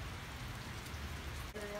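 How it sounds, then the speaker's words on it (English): Heavy rain pours steadily in a continuous close hiss of drops striking surfaces outdoors, broken only by a brief dip near the end. "it's pouring"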